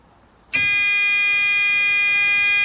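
A continuous electronic buzzer sounds on a Ford Transit van fitted with a Thule Omnistep auto-retracting step. It switches on abruptly after half a second and then holds a loud, steady, multi-toned drone, with no talking over it.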